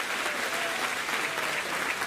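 Steady applause from an audience at a political rally on stage, a dense continuous wash of many hands clapping at even loudness for about two seconds with no talking over it.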